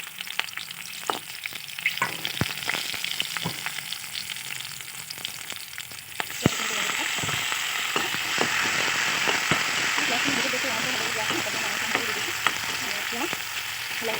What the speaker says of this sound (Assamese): এয়া দি দিছোঁ পিঁয়াজ, ভাজি লগতে জলকীয়া কেইটাও দি দিছোঁ।